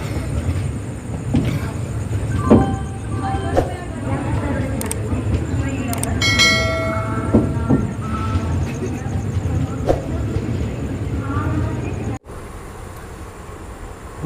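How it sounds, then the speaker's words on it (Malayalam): Inside a Thiruvananthapuram Central Express train pulling out of Vadakkanchery railway station in Kerala, a steady carriage rumble runs with scattered clanks and squeaks, while people talk over it, then the noise drops suddenly. "നമ്മുടെ ട്രെയിൻ അങ്ങനെ വടക്കാഞ്ചേരി റെയിൽവേ സ്റ്റേഷനിൽ നിന്ന് പുറപ്പെട്ടിരിക്കുകയാണ്"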